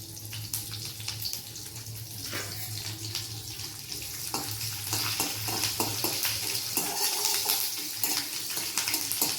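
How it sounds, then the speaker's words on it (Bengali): Curry leaves crackling in hot oil in a wok with slit green chillies for a tadka, a steady hissing sizzle with scattered sharp pops, moderately close and running without talk. "কারি পাতা দিলেই কড়ায় বম ফাটে"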